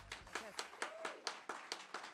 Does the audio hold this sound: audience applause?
yes